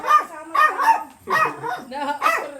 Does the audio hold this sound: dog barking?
yes